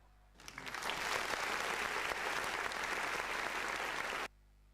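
An audience claps at a 70th birthday and retirement programme, a dense burst of applause starting sharply, holding steady for about four seconds, then stopping abruptly.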